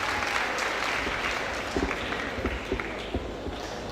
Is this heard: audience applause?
yes